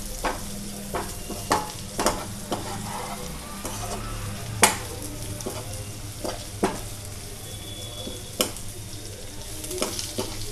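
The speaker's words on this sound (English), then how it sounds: "Chia seeds and cumin seeds will splatter out." Chia and cumin seeds fry in hot oil with a constant sizzle, punctuated by sharp scattered pops and splatters at irregular intervals, fairly close and moderately loud.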